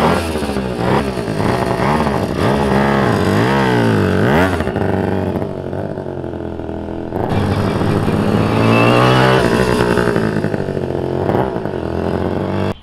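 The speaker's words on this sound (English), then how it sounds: "Nice and light, very smooth running engine." A vintage Maserati motorcycle engine runs loudly and steadily in first gear, its pitch rising and falling with repeated revs, with no voices.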